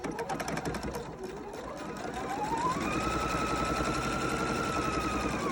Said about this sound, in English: I'm going to sew to the end